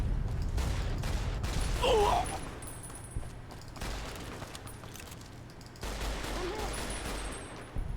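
Rapid bursts of gunfire in a Fallout: New Vegas firefight come in loud clustered volleys separated by brief lulls, with faint game effects mixed in and no voices.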